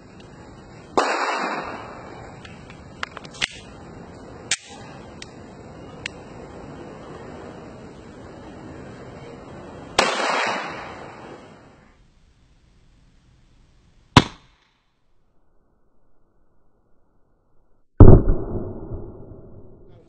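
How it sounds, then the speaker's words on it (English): Shots from a .45 caliber ball round fired at a MILITECH FAST Level 3A ballistic helmet: three sharp, loud reports several seconds apart, each followed by a short ringing decay, with quieter handling noise in between. "Ang unang ipotok natin is caliber 4-5 ball sa MILITECH Ballistic Level 3A helmet."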